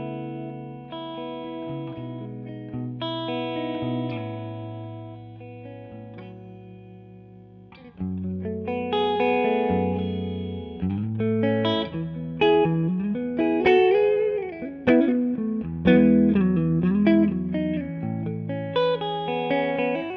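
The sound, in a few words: electric guitar through Two-Rock Classic Reverb amp, FET gain off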